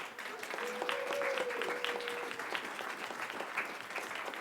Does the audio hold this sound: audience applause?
yes